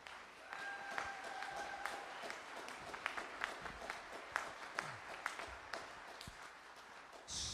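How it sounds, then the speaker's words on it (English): Audience applause at a community gathering, a sparse-to-steady patter of clapping hands, fairly faint and distant, carrying on for several seconds. "a round of applause for"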